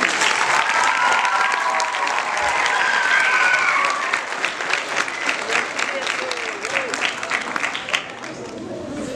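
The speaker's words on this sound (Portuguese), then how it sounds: "Uma grande salva de palmas para o Pedro Gonçalves." A live audience gives a big round of applause for Pedro Gonçalves: dense, steady clapping that swells and then thins into scattered claps, with light crowd chatter underneath.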